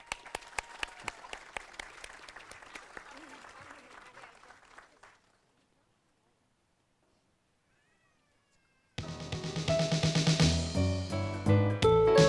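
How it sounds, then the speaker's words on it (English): An audience at a Veterans Day ceremony applauds a school choir with scattered claps that thin out and fade into silence, followed by loud music starting up. "Let's give them an applause."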